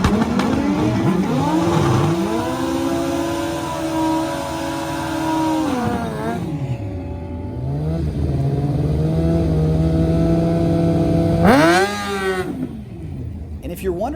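Stock-wheelbase drag racing motorcycles rev and accelerate hard at close range, long rising engine pitch sweeps dropping at shifts, with a second bike screaming up near the end; loud and continuous.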